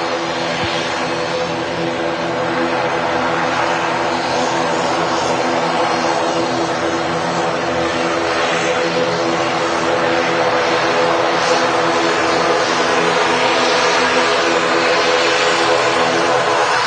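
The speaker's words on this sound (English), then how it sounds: "Lovely, noisy ATR taxiing in front of the RVP." An Aer Lingus ATR 72 turboprop taxiing at Manchester Airport, a loud, constant, close propeller drone with a steady engine hum, with no talking.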